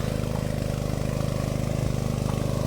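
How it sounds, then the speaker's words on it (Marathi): A small water pump engine runs steadily at close range at night, a continuous low chugging drone with no pauses. "इंजिन बऱ्यापैकी चालला"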